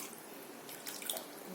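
Water poured from a tap or jug into a pan of rohu fish curry with coconut, a steady gentle stream running and splashing for about a second and a half at low level, with no voices.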